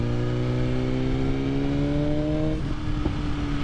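A 2020 BMW S1000RR motorcycle accelerating on a winding road in road mode, its engine note rising steadily in pitch through a gear before a brief drop, loud and close, with wind rush and no talk.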